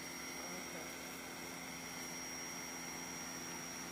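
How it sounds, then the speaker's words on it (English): A drone lifts off, its rotors giving a faint, steady whining hum with thin high tones that stays constant throughout. "to block out the sound of the drone going up"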